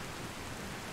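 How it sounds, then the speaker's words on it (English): Steady rain hisses continuously in Skyrim, a dense, even wash of noise with no voices over it. "It's a real bummer that it's raining, honestly."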